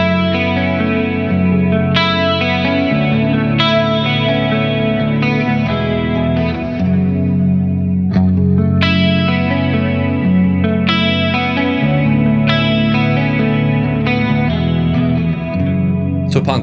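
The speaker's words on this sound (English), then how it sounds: "check out some clean tones with a touch of chorus" A clean electric guitar plays chords and arpeggios with a shimmering chorus effect, each strum ringing out and sustaining, with no voices.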